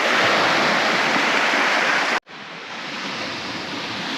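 Waves wash steadily onto the shore of Lake Tanganyika in a loud, close, broadband rush that cuts out abruptly for an instant midway, then resumes slightly softer.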